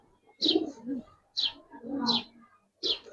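Silver Giribaz pigeons cooing close by, four separate throaty coo phrases in a slow uneven rhythm with short pauses between, clear and fairly loud against a quiet background.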